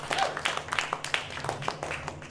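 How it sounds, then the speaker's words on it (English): An expo audience claps for a guitarist, a short, moderately loud patter of applause with some uneven peaks. "Toby James, give him a round of applause"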